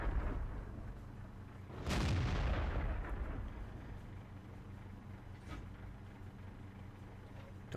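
Tank cannon fire from a World of Tanks battle on the Pearl River map: one loud, heavy boom with a rumbling decay, followed by fainter distant shots over low background rumble.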